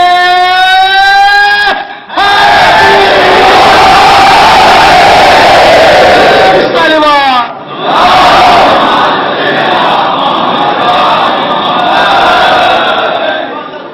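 A large gathering at a Muharram majlis in Lucknow loudly chants Nad-e-Ali slogans, a leader's voice answered by roaring massed voices in long sustained waves, with brief pauses between shouts.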